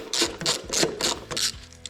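A ratchet works loose a chain case bolt on a Ski-Doo snowmobile, giving close, bright clicking bursts in about five quick strokes, each a short run of pawl clicks, with no talking.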